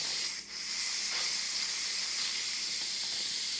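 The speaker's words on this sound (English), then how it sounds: "If you want to do a manual release, you press right here. And so, see, all the steam is going that way." Manual steam release on a pressure cooker while making beef and broccoli, a steady loud hiss of venting steam that briefly dips near the start and then holds continuously without talk.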